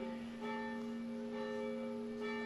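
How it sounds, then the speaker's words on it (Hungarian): A church bell in a Hungarian village in Nógrád rings with a sustained, humming tone. Fresh strikes come at a slow, even pace and the ringing stays steady and moderately distant. "Amikor harangozunk, ugye délbe, este, akkor az úrangyalat mondjuk."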